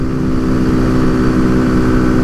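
Kawasaki Z125 motorcycle engine held at full throttle in its four-speed gearbox, a loud, steady high-revving drone with strong harmonic whine, continuous and close, with no talking.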